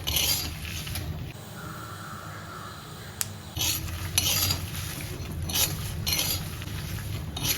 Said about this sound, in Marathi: सगळे एकत्रच टाकणार आहे आणि ह्याच्यात काही तेल वगैरे टाकायचं नाही असेच भाजून घ्यायचे कोरडेच भाजायचे बारीक गॅसवर